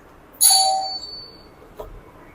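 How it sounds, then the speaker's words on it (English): A doorbell rings once indoors during a houseplant repotting session: a single bright chime that rings out and fades over about a second, followed by a faint soft thud. No one talks. "Doorbell, as always,"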